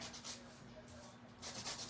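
Sandpaper rubbed by hand across a sketch on a craft project, a close, steady scratchy swishing in repeated strokes, fairly faint and with no talk.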